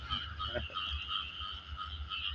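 Two frogs croak in a steady chorus at night, with a repeated throaty call carrying over a constant insect-like drone and low rumble.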